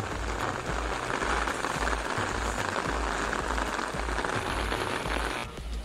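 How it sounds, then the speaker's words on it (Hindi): Heavy monsoon rain pours down steadily in Lonavala, a dense, loud, unbroken hiss of drops hitting surfaces, easing only slightly near the end with no voices. "बारिश का फोर्स थोड़ा कम हो गया था"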